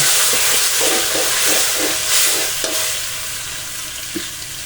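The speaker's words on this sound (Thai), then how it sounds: "ก็ผัดให้ส่วนผสมเข้ากันจนเกิดพอมีกลิ่นหอม" A sauce of oyster sauce, light soy sauce and a splash of water is stir-fried in a wok for a fried mackerel and holy basil dish. Close, steady sizzling and hissing is punctuated by repeated scraping strokes of the spatula.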